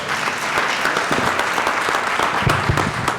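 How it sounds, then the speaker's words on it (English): Sustained applause from a crowd, dense clapping filling the room at a steady, moderately loud level with no talking over it. "a round of applause for you."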